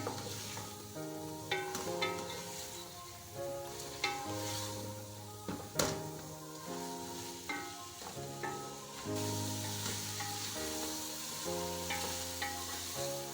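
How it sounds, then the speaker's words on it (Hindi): Chicken pieces frying in a pan for chicken karahi, with a steady sizzle punctuated by clacks of a spoon stirring, close and alone with no talking. "चिकन का कलर चेंज होने तक हम इसको फ्राई करेंगे।"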